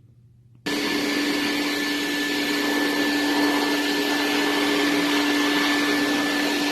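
A dog dryer blasts steadily while a Goldendoodle's coat is dried during grooming, starting abruptly after a quiet moment and holding a loud, constant whine with a high tonal hum throughout.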